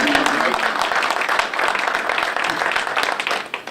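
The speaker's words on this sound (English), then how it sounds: "let's give Ms. Anderson a round of applause." An audience at a fire chief and county attorney swearing-in ceremony breaks into sustained applause, a dense steady clapping that tapers off near the end.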